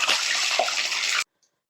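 Half a tablespoon of cumin seeds roasts in a pan while being stirred, giving a close, steady hiss of sizzling for just over a second before it cuts to silence.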